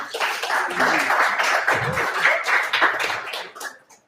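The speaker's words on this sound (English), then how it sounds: "Once again, round of applause for Tucker Schmidt." A crowd at a high school basketball game claps and cheers steadily for a few seconds before the applause fades out.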